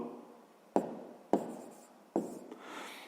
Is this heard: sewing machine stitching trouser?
no